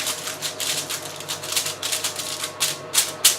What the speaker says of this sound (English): Just scrunch the foil up at the edges